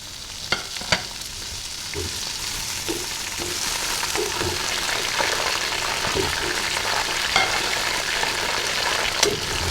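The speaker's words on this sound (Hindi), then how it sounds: "चिकन डालूंगी तो साथ में इसके ना थोड़ा सा डाल दूंगी लहसुन" Chicken and garlic fry in mustard oil for a Pakistani aloo chicken curry, a continuous close sizzle broken by scattered pops and stirring scrapes.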